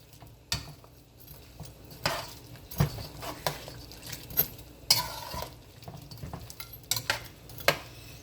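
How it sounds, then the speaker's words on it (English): Pork stirred into a pan with lemon juice and ginger for Jamaican-style sweet and sour pork, with a spoon clacking and scraping against the pan in irregular knocks over a faint sizzle. "So now I'm gonna add the pork to it. Just mix it in."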